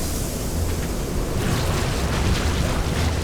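Gas is released onto infested Terrans in StarCraft 2, a loud broad rushing hiss and rumble that swells and continues steadily.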